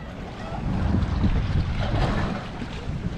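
A two-stroke jet ski engine runs steadily at around half throttle during break-in, a continuous broadband roar mixed with wind and water noise, no talking.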